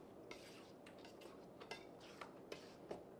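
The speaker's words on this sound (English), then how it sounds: "Stir it in." A spoon scrapes and clinks against a bowl while stirring chunky avocado and roasted pepper salsa, giving a few soft, irregular taps and wet scrapes up close in a quiet kitchen.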